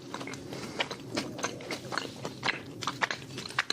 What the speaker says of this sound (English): Because you just hear me munching in the mic